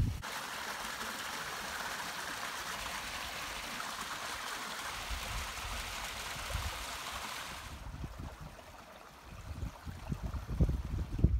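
Water trickling and rushing steadily in a small low-flow stream near Tucson, Arizona, a continuous airy wash that drops away near the end, leaving low rumbling handling noise.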